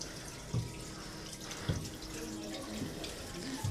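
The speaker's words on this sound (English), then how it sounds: "is water falling out of bamboo." Water falls out of bamboo, running and trickling steadily, with a few soft splashes and drips standing out against the constant flow.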